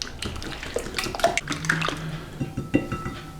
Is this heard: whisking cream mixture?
yes